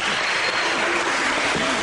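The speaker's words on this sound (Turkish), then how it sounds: "Alkış. Bravo." Brief burst of audience applause on a Turkish magic show with children on stage, dense clapping that stays loud and even throughout.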